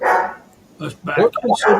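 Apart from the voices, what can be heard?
dogs barking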